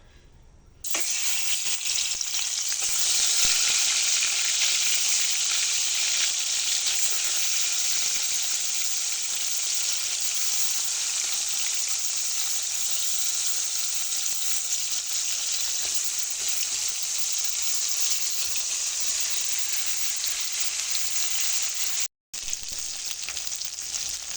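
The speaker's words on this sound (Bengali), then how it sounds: "কড়াইতে সরিষার তেল দিয়েছি তেলটাও খুব ভালো করে গরম হয়ে গেছে এবারে মাছগুলো ভেজে নেবো" Rohu fish frying in hot mustard oil in a wok gives a loud, steady, dense sizzle that runs almost without a break, with only a brief dip near the end.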